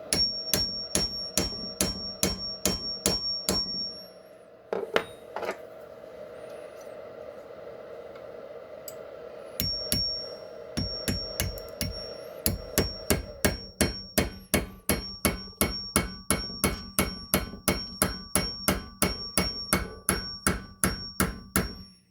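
Repeated sharp hammer blows drive out a driveshaft dogbone pin, with fast, regular metallic strikes in long runs, broken by a short pause and a few scattered hits.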